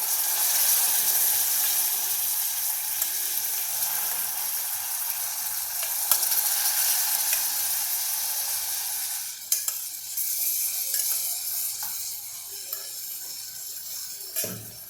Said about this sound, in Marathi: आता काही फुलं मी फ्लावरची यात टाकते.